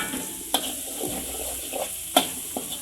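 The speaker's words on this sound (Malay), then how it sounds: "Kita kacau balik." Steady sizzling of sambal with petai and tuna frying in a pan, with a few sharp scraping clinks of a utensil stirring against the pan.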